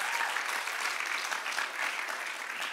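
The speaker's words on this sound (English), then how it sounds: "give God a hand of applause" A church congregation bursts into sustained applause during a worship service, dense steady clapping filling the room for several seconds without a break.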